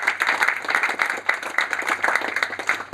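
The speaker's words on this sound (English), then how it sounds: "please extend a big round of applause" Steady applause from a crowd, dense clapping filling the whole stretch without pause, fairly loud and close.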